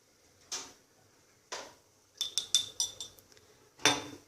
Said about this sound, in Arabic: هكذا نخلط شويه المكونات هذه ندخلها في بعضها